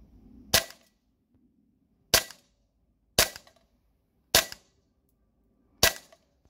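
Tokyo Marui FNX-45 airsoft pistol firing 0.2 gram BBs on green gas outdoors, five sharp loud cracks at irregular intervals of about one second, each fading quickly into quiet.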